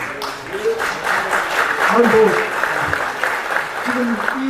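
An audience claps at a lecture on national security, a steady wash of applause lasting several seconds beneath someone speaking over it.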